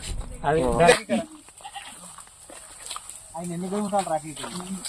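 Goats bleat nearby, a wavering cry at the start and another longer bleat later, with quieter background sounds between.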